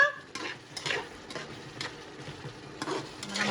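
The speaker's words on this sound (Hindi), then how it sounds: "हमारा मसाला देखा अच्छे से भून गया।" Masala sizzles in a hot pan while a spoon stirs it, giving soft scraping strokes at an irregular rhythm over a steady close frying hiss, with no talking.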